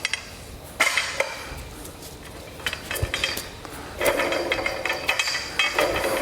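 A wrench works on the exhaust bolts of a BMW E36 M3 under a lift, giving metallic clanks, ratcheting clicks and taps in uneven bursts, close and fairly loud over a steady background hum.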